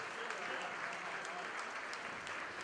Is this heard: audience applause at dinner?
yes